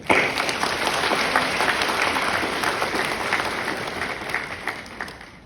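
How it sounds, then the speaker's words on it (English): Hall audience at a spiritual talk by Swami Sarvapriyananda breaks into sustained applause, many hands clapping steadily and fairly loud before tapering slightly at the close. "I think we need a round of applause for everybody present here."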